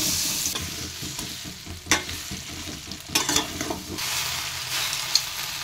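Ingredients for a tangy-spicy-sweet jujube (kul) pickle, with oil, chilli and sugar, being stirred in a pan, giving a steady low sizzle with scraping strokes and a few sharper utensil clacks near the middle and end.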